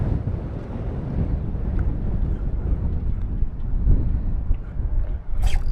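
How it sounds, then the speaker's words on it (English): Wind buffets the microphone on a fishing boat, a loud, low rumbling roar that gusts unevenly throughout, with faint water sounds beneath. "Hope the wind isn't too bad for you guys in the mic"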